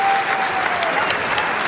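Crowd applause at an Oklahoma State vs Northern Iowa men's college wrestling dual as a wrestler gets back up, a steady dense wash of clapping through the whole stretch with faint murmur beneath.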